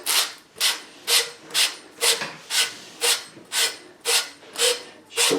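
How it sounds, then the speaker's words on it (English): A wire brush cleans the end of copper pipe before soldering, a rhythmic scrubbing rasp repeated about ten times in steady back-and-forth strokes, close and clear with no talking. "Just a wire brush in there that does it."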